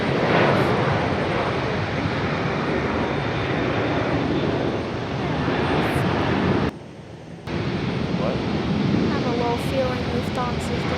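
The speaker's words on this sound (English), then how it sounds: "United on the roll right now" A United airliner on its takeoff roll at Raleigh-Durham gives a loud, rushing engine roar that briefly drops out in a short gap before resuming strongly, with no one speaking.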